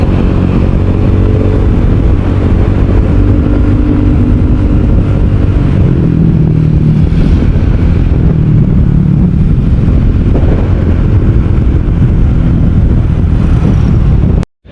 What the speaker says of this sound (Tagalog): Ayun si Tito Jimmy, nailabas na yung motor na gusto niya.